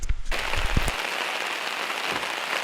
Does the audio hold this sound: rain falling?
yes